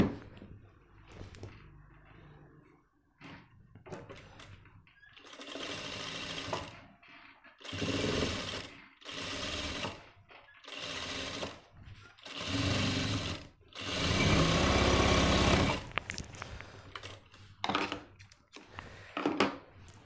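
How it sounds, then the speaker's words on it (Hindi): A sewing machine stitching the front pocket of a pair of men's trousers runs in several loud bursts of rapid mechanical whirring, separated by pauses filled with handling clatter and quiet moments. "ये पीस लगाने के बाद वैसे ही इसको पलट करके सिलाई मार देंगे।"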